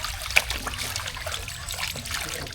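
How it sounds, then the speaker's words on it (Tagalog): Water flows steadily at a farm washing spot, a continuous trickling splash with one brief sharper splash early on, close and moderately loud. "Maraming tubig. Flowing ang tubig, flowing."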